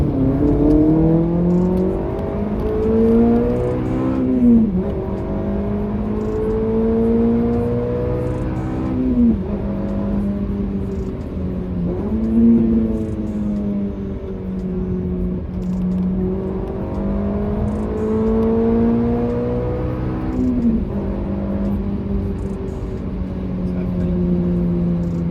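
Honda Civic Type R engine revving and accelerating with only an aftermarket silencer, a steady drone with repeated rising sweeps as gears change, loud and continuous under a sustained cabin hum.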